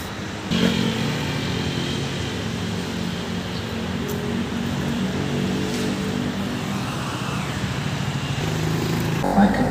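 A motorcycle taxi booked through a ride app rides along a street outside a railway station in Thailand, its engine a steady close drone with traffic noise and no talk.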